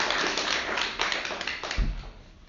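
A small audience at a bookstore-related talk gives a round of applause for a guest, producing sparse, fairly soft clapping with scattered individual claps and a brief thump near the end.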